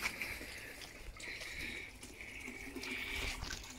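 Quiet, steady trickling and splashing of water flowing from airlifts in a koi pond, with a faint hiss, continuous throughout and fairly close.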